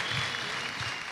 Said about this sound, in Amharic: ለቤተሰቦች አጨብጭቡለት